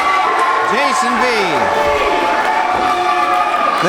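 A loud wrestling arena crowd roars and cheers continuously for Aaron Matthews in a career-on-the-line match, with whistles and shouted voices rising through the dense wall of noise.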